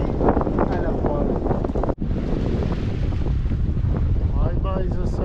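Steady wind and rushing water around a sailboat under sail at sea, a loud continuous roar of wind on the microphone with waves washing past the hull during a solo ocean passage, and a voice speaking briefly.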